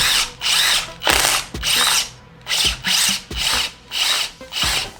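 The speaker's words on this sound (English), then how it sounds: "I'm gonna have to make sure I drill far enough up that the washer can go in there." A power drill boring a hole for a camping shower valve on a Honda Element, whining loudly in about eight short bursts with brief pauses between them.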